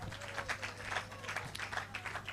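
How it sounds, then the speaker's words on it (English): A seated audience at a youth week career and health talk claps their hands, a steady patter of many hands at moderate distance and fairly faint, with no talking. "please clap your hands very well"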